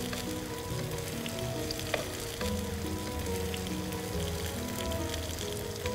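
Chandramukhi fry made with ash gourd sizzles steadily in a hot pan, a close, continuous crackle with occasional stirring and no talk.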